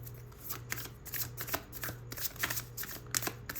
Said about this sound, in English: Let me shuffle a little bit longer.